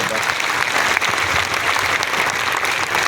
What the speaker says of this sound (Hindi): एक बार जोरदार तालियों के साथ सबका स्वागत करें।